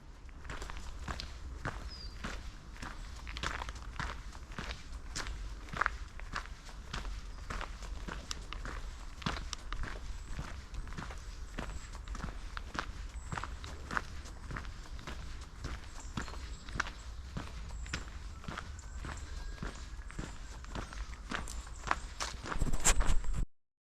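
Footsteps crunch steadily through the woods on the Orrest Head walk from Windermere, a continuous walking rhythm on leaves and twigs, with faint birdsong in the background.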